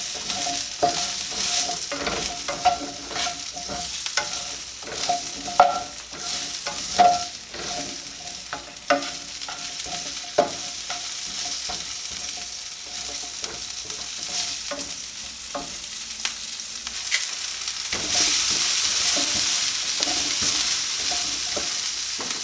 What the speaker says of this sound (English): now we're going to flash fry the asparagus